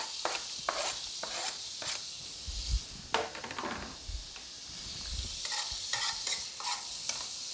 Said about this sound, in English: Now that my butter is melted, I'm going to add my finely chopped garlic to saute